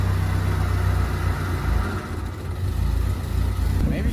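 Ford Focus ST engine with a freshly rebuilt motor, running steadily with a low rumble and a slight rise in throttle, loud and close throughout.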